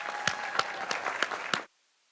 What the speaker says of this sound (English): please turn to your family members and give them a big round of applause here